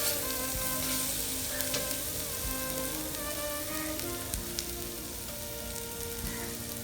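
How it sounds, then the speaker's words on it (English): Onion, ginger and garlic sautéing in a pan for a Kerala coconut rice dish, giving a steady, dense sizzle with crackling pops throughout, no talking. "So now the onion is sauteed well and the raw flavor of the ginger garlic has gone."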